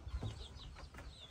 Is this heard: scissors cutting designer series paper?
no